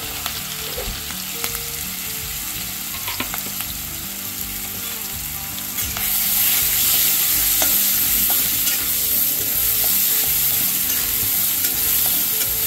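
A large chopped onion fries with curry leaves in a pan, a close, steady sizzle broken by stirring scrapes, with the frying growing louder and more hissing about halfway through.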